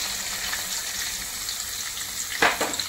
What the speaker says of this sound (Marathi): आता हा कांदा आपण चांगला परतून घेऊया।